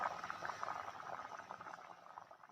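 Chicken curry bubbles in a pot, a soft, steady simmer of small pops and gurgles, quiet and close, with no one speaking.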